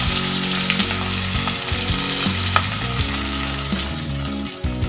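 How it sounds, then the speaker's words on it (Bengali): Chopped onion frying in oil with whole spices and bay leaf in a home kitchen, a loud continuous sizzle close up with occasional stirring scrapes and a low hum underneath. "একটু পেঁয়াজ কুচিয়ে দিয়ে দিলাম"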